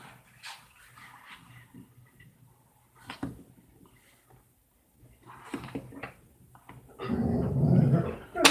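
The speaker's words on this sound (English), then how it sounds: "Oh, my dogs are driving me nuts" Pet dogs indoors growling, whimpering and giving short barks, with low rumbling growls building louder toward the end, heard close alongside scattered background noise.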